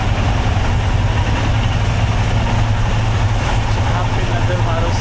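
Several Royal Enfield Himalayan motorbikes idle together with engines on at a rental lot in Manali, a steady low rumble filling the whole stretch with no clear break.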